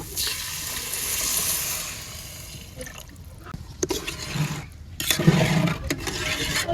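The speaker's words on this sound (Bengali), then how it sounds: "পানি দিয়ে দিলাম।" Water pours and splashes into a pot of cooking dal, a rushing stream with some rubbing and clatter, then settles into a bubbling liquid sound.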